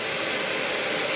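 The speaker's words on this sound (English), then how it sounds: "He just takes the whole damn vacuum cleaner and is vacuuming my couch for me" A dog named Eddie drags a whole vacuum cleaner across a couch; the motor gives a loud, steady, close-up roaring whine with no pauses and no voices.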